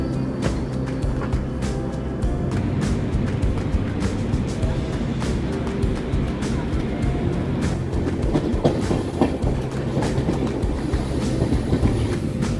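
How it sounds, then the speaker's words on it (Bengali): A passenger train rolls steadily through heavy monsoon rain near Raiwala on the way to Rishikesh, giving a continuous loud rumble with faint rhythmic clatter and rain hiss throughout, and no one speaks. "ভোরের আলো ফুটতেই দেখলাম ট্রেন রায়ওয়ালা ঢুকছে।"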